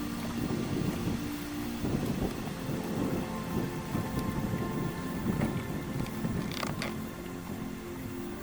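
Speedboat motoring on a river, a continuous droning engine roar with churning low rumble that stays fairly even and close for the whole stretch, a few faint knocks over it.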